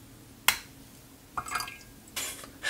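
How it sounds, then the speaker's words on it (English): Live chlorella vulgaris algae culture tipped into a container of water, a few separate drips and splashes with short pauses between them, close up and fairly loud, with no talking. "I can add the live chlorella vulgaris cultures."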